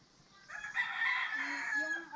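Backyard-raised rooster crowing once in a long, strained call at moderate distance, with faint hens and background noise around it.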